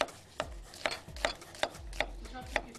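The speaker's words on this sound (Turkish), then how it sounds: "soğanımızı minik minik bir doğrama yapalım." A knife chops an onion on a cutting board with about eight quick, evenly spaced taps, close and crisp over faint background noise.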